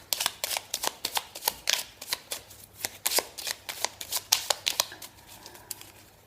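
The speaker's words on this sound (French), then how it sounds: "Je vais juste rajouter une carte en plus avec le message petit oracle de la forêt." Oracle cards shuffled and drawn by hand, a brisk run of sharp riffling flicks and slaps close up, repeating steadily with no talking.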